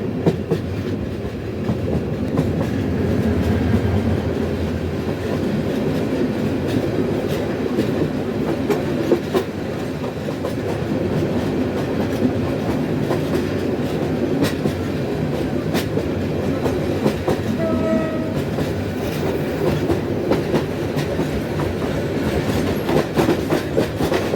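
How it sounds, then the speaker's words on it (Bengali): A Jamalpur Express commuter train bound for Dhaka rolls steadily along the rails, with a continuous close rumble and faint clickety-clack that hold a constant level throughout, with no voices. "এই মুহূর্তে আমাদের ট্রেন পৌঁছে গেছে তার দ্বিতীয় স্টপেজ গাজীপুরের জয়দেবপুর জংশন"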